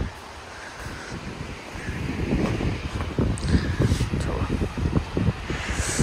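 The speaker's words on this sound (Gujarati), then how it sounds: "એવું લાગે છે કે જાણે વાવાઝોડું આવ્યું છે, ગરમ પવનનું વાવાઝોડું આવ્યું છે એવું છે" Strong, hot gusts in an Australian heatwave buffet the microphone in a rising, uneven roar, with trees and leaves thrashing and rustling as the wind grows louder.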